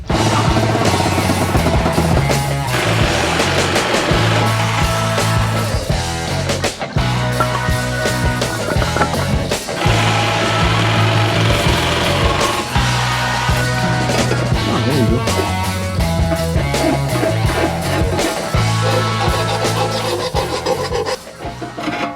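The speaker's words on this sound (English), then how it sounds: "So I think I'm just going to do the right thing and saw it in half." A rear suspension part of an Opel Manta A being cut in half with a hand saw: loud, continuous rasping strokes in a steady back-and-forth rhythm, close up, with a brief pause near the end.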